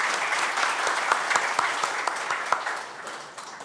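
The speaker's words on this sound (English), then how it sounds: "let's have a round of applause for the leadership team who's visiting us" An audience claps steadily in a round of applause for a visiting leadership team at a company gathering, dense and sustained with a few sharper individual claps, tapering slightly toward the end.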